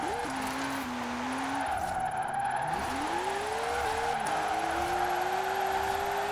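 Subaru WRX STI drift build in Forza Horizon 4, its engine note rising and falling through gear changes and handbrake slides while tire noise hisses underneath, steady and loud throughout.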